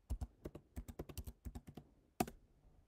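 Rapid bursts of computer keyboard typing, clicks in quick rhythmic runs, then a pause and a final cluster of keystrokes, close and clear with no talk, as a bank transaction description is entered.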